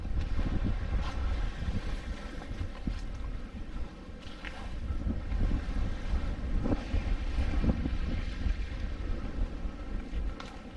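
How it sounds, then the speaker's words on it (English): Steady wind buffets the microphone on a tropical beach near Suva, Fiji, a continuous low rumble and roar lasting throughout with gusty swells and no speech. "A little bit windier on this side."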